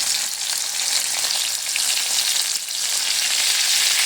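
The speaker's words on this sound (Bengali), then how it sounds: "ভালো করে এবার আমি নেড়ে দেবো, মশলাটা কষিয়ে নেব।" Ground spices with ginger paste, coriander, cumin and turmeric fry in a pan, giving a steady, loud sizzle that runs without a break for several seconds, with no voices over it.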